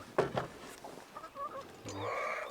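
Chickens in an experimental coop with an automatic grain feeder cluck in short, close bursts, with a few higher squawks and calls scattered across the moment.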